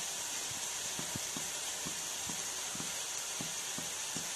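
Chopped onions sizzle steadily in hot oil as turmeric powder goes in for a fish head curry, a constant bright frying hiss with soft clicks of stirring at an even pace, close and unbroken, no talking.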